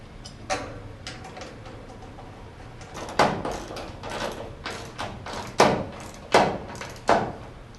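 A Chevy C10 or K5 Blazer truck door with a Holley Premium door shell is swung and shut several times, each closing a solid metallic clunk, spaced a few seconds apart with quiet rattling between.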